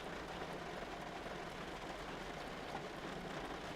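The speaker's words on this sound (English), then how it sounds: "the rain seems to briefly up its tempo before resuming its steady rhythm" Steady rain falling in a continuous, even broadband hiss with a faint patter of drops, moderately loud and unbroken throughout, with no voices.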